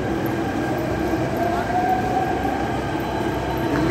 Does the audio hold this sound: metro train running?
yes